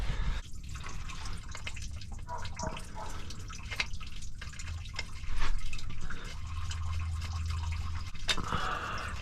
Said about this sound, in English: just draining all the fluids because that's rule number one when pulling a motor out